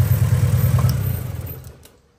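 A car engine misfiring and running on just one cylinder, with one cylinder working at a time, idles with a rough, loping low throb. It stays loud at first, then fades over the last moments until it dies away to near silence.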